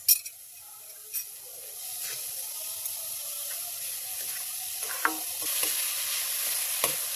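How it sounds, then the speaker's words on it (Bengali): Grated carrots sizzle in ghee with sugar for a sweet shahi carrot zarda, stirred steadily with a spoon scraping the pan in a few sharp clicks, close and moderately loud over a constant frying hiss, with no talk. "আমি ঘিতে বেজে নিচ্ছি। আমি চিনি দিয়ে দেব"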